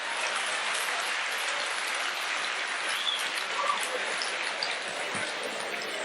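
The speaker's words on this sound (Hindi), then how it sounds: "आपकी तालियां कमजोर हैं।" Crowd applause at a Rajasthani comedy show, a dense continuous wash of many hands clapping that stays steady and fairly loud throughout, with a voice faintly audible underneath.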